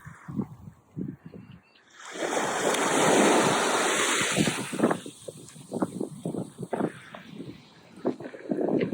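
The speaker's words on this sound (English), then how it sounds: "the sound of the waves" Ocean waves roll onto a beach, a soft hiss at first, then a loud sustained wash of surf that recedes into lighter splashes and fizzing foam, with some wind, alone.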